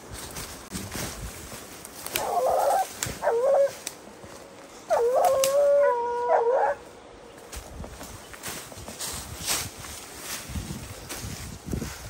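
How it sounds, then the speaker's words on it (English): Hound baying during a hunt near water, two long drawn-out howling bays rising and falling a couple of seconds apart, moderately close against outdoor rustling and wind. "Look at the hound baying again,"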